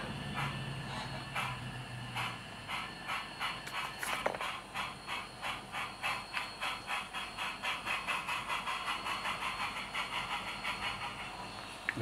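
A model steam train on a Great Northern layout backs slowly down the track, giving steady, evenly spaced chuffs over a constant hiss, close and alone with no talking.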